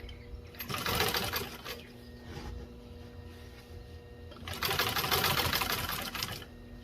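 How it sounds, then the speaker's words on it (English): Commercial carpet binder sewing machine stitching binding onto automotive carpet, running in two loud sustained bursts with a brief pause between, close up and without talk. "the trick is keeping the carpet all the way in and not breaking the thread, not pushing the machine too hard"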